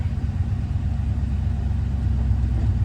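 A 60-year-old Ford truck, an old Bronco, with its engine running in a low steady rumbling idle, close and fairly loud, no talking.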